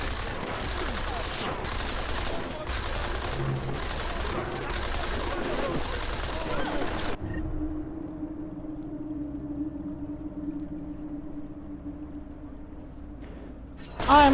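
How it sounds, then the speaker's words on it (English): Gunfire in the video game Deus Ex: Mankind Divided, rapid bursts of automatic shots for several seconds, then a quieter stretch of low game ambience with a sudden loud sound at the very end. "Oh, they're just gonna straight up shoot him?"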